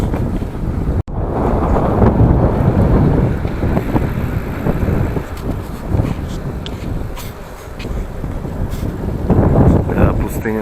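Strong wind roars and buffets the microphone continuously while cycling with a tailwind through the Mongolian desert, a loud, steady rush with gusty surges throughout.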